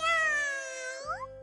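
A cartoon kitten gives a single drawn-out meow that slides downward and then lifts with a quick upward bend at the end, clear and close.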